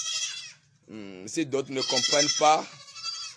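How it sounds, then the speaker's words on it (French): Goats and sheep bleat loudly in a village, several wavering cries following one another up close while someone speaks over them. "ça c'est le cri des moutons, des chèvres et tout"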